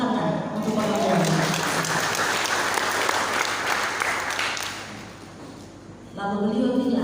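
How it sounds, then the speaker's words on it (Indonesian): A church congregation breaks into loud, continuous applause that swells and then tapers, framed by a speaker's voice at the start and again at the end. "Tepuk tangan untuk Bapak Tuhan."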